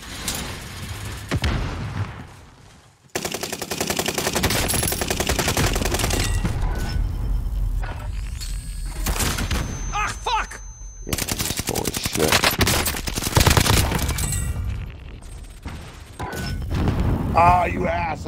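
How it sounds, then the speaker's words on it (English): Call of Duty Warzone Plunder match with a thrown frag grenade exploding amid loud bursts of machine-gun fire and scattered gunshots, close and continuous for most of the stretch, with players talking over the combat. "Tossing frag."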